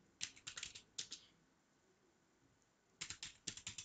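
Quick bursts of computer keyboard typing at a command prompt, two short clusters of crisp clicks near the start, a quiet pause, then another rapid run of keystrokes.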